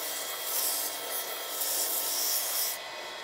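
Sandpaper rubbing back and forth over wood to strip an old finish, a steady dry rasping scrape with even strokes, close and fairly loud, with no voices, ending in a slightly quieter pass.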